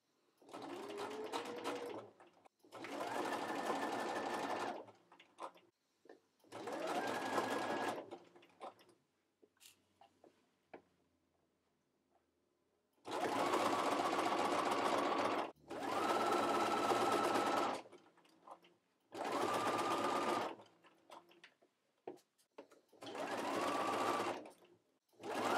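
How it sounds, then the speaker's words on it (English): A sewing machine stitches around the waistband seam of a culotte jumpsuit in about eight close, even bursts of rapid mechanical whirring, separated by short quiet pauses as the fabric is repositioned. "I'm going to sew all the way around this waistband seam."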